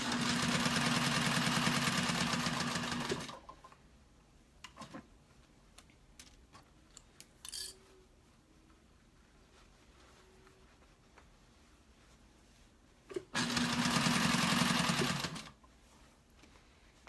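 A compound feed sewing machine stitching fabric runs in two loud, steady bursts of about three and two seconds, with quiet pauses and small clicks between them.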